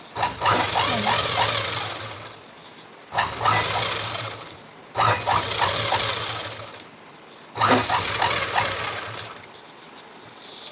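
Sewing machine stitching a simple blouse design, four loud close bursts of rapid whirring, each running about two seconds with short quiet gaps between.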